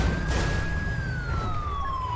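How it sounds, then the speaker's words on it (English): A police car siren in the video game LSPDFR wails continuously in a slowly falling tone over a low engine rumble. "I love how people don't, recognize sirens in this game."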